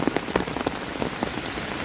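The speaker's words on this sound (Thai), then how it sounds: "น้ำทั้งนั้นเลย ดูสิไหลแรงมากเลย น้ำเยอะ น้ำฝนล้วนๆเลย" Heavy storm rain pattering hard on surfaces with rainwater flowing strongly, a dense close wash of drops and splashes with no talk.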